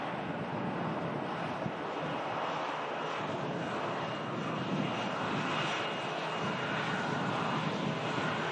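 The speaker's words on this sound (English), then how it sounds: "the release of this aircraft will be off to the French coastal resort of Nice, south of France" A jet aircraft departs Manchester Airport, bound for Nice, its engines a loud continuous roar mixed with wind buffeting on the microphone throughout.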